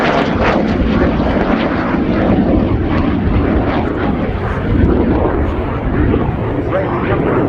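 A Romanian Air Force MiG-21 LanceR C jet roars through a flying display at an air show, its engine a loud, steady, broadband rumble that holds throughout while a commentator speaks over it.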